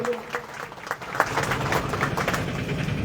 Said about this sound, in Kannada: ಜೋರಾಗಿ ಚಪ್ಪಾಳೆ ಹೊಡಿ ಅವ್ರಿಗೂ